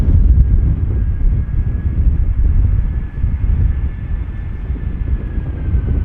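An EasyJet Airbus A320 airliner gives a steady, continuous engine roar that holds loud and even from start to finish, with a faint thin whine riding over the rumble.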